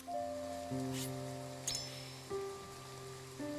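Steady soft rainfall at night in the video game Triangle Strategy, a faint hiss running under sustained musical tones and a few brief chimes.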